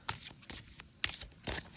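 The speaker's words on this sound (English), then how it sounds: "give these a little bit of a shuffle" A pile of Enchanted Tarot cards is shuffled in four soft, papery bursts, close and fairly quiet, with short pauses between them and no voices.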